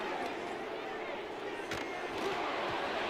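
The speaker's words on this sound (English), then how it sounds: "I'm starting to detect an uneasy murmur through this crowd" Uneasy crowd murmur in a Madden football video game stadium, a broad, steady wash of distant hubbub with a few faint thuds, continuous and even throughout.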